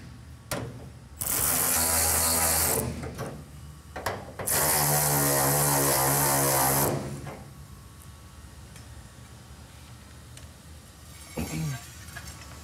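Power tool driving bolts on a 1971 Road Runner, two loud sustained whirring bursts of a few seconds each with harmonic whine, then quieter workshop background and a brief knock near the end.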